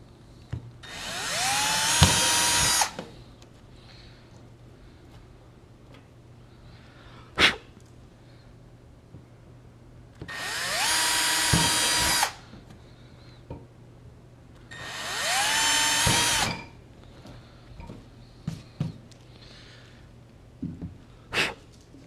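A cordless power drill bores holes into a water tank for a van conversion gauge install: three loud whining bursts of a couple of seconds each, separated by pauses with small clicks and handling knocks.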